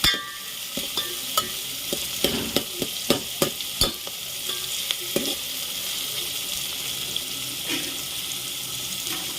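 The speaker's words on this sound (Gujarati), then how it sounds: "આપણે થોડી વાર ટમેટા તેલમાં ચડવા દઈશું." Tomatoes fry in oil in a pan with a steady close sizzle, broken by scattered clicks and taps of a stirring spoon, and no voices.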